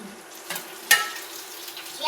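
Okra frying in a pan sizzles softly while a spoon stirs it, with a couple of sharp scrapes and clicks standing out, heard up close.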